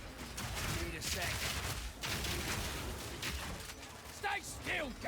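Rapid crackling bursts of turret fire in the action RPG Path of Exile 2, dense and fairly faint, mixed with game effects and a voice talking near the end.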